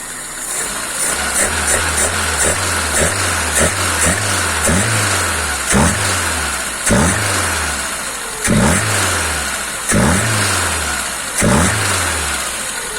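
A car engine fed by a rebuilt Solex 2108 carburetor with gas fittings runs near and loud, idling with repeated short throttle blips that rise and fall in an even rhythm.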